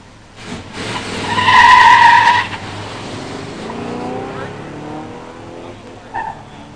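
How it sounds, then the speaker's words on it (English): A 1968 Pontiac GTO with a 400 engine and four-speed gearbox makes a solo stock drag-strip run, with a loud screeching launch and engine roar fading into the distance, under a track announcer's voice. "In the near lane, Randy Frank, 68 GTO 400 4-speed, gets a solo by run."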